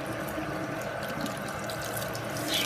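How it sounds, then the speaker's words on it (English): Tap water runs steadily while soap is rinsed out of a brush, a soft continuous splashing stream with no voices. "the water runs clean."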